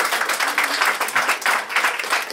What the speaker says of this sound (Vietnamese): làm ơn cho một tràng pháo tay thật lớn.